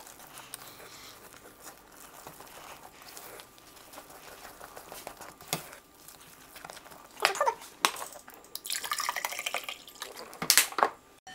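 A glass of bottled water is poured into a cooking pot while making garantita, a liquid trickle with splashing and some crinkling of a plastic bottle, building in intensity toward the end, fairly close, with no talk.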